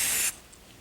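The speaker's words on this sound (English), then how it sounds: "spray a little more in the center there" Oven cleaner containing sodium hydroxide sprayed from a can onto aluminum, a short, close, bright hiss lasting about a third of a second before fading to quiet.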